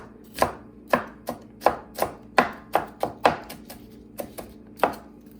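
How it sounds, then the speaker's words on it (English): A knife chops a purple onion finely on a cutting board, about a dozen crisp, evenly spaced thuds up close in a quiet kitchen, no voices. "we chop up a little bit of this purple onion"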